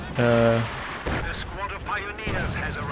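Machine gun fire in the Company of Heroes 2 video game: a short loud burst of rapid shots at the start, followed by battle noise under a commentator's excited voice.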